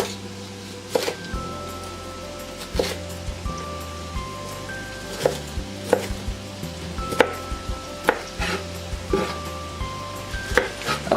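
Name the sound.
chopping vegetables into big chunks for chili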